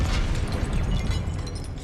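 A Confringo fire spell bursts in the Hogwarts Legacy video game, a loud, rumbling blast with a low roar that stays full and sustained before easing slightly.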